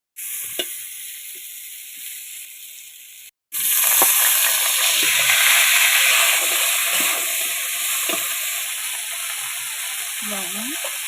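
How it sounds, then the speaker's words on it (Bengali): Potatoes frying until reddish-brown in a pan with salt and turmeric for a vegetarian fish-style curry, a steady bright sizzle that drops out briefly, then returns louder and continues with occasional stirring scrapes. "আলুটা লাল লাল করে ভেজে নেব।"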